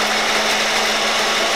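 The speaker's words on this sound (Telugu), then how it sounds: "మిక్సీ పట్టేద్దాం." A kitchen mixer grinder runs with salt added, giving a steady, loud, high whirring motor drone with a constant hum and no pauses.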